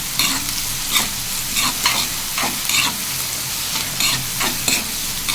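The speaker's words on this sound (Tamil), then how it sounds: "வெங்காயம் வதங்க வந்து நான் சால்ட் போட்டுக்கிறேன். நல்லா வதக்கிக்கலாம்." Onions with salt sautéed in a pan for chicken gravy, a loud close sizzle broken by regular scraping strokes of a spatula roughly every second, with no voices.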